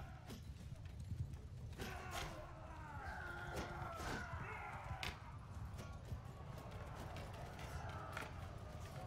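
Cavalry horses gallop across a medieval battlefield in Mount & Blade 2 Bannerlord, a dense run of hoof clatter under the din of battle, with someone talking over it.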